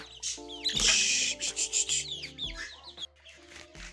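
Several chickens cluck and chirp nearby in short, irregular bursts, with faint background tones and no talking.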